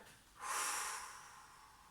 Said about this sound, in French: et à l'expire, je reviens